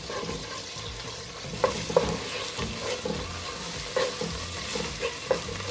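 Gari foto being stirred with a spice mix in a pan: soft scraping and sizzling of the grains, with occasional light clinks of the spoon against the pan.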